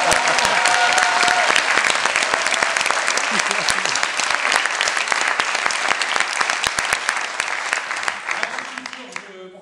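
A large audience claps steadily and loudly for several seconds before the applause tapers off at the end.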